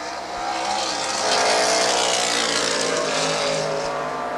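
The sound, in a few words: Camaro race cars racing at Lime Rock Park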